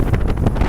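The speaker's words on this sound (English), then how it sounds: "It's just a bit windy," Strong gusts of wind on a bridge buffet the microphone with a loud, low rumbling roar that pulses unevenly throughout.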